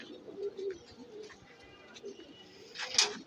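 Racing pigeons at a Mohammadpur pigeon fanciers' club coo softly in low, rolling calls at moderate distance, with faint background sounds and a brief higher chirp near the end.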